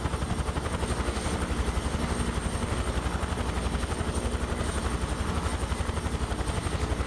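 A UH-1H Huey helicopter in Microsoft Flight Simulator, flying near Nice and Monaco, gives a steady, loud rotor thump with a rapid regular beat over a continuous turbine whine, with no talking.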